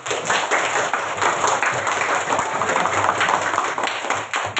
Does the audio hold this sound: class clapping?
yes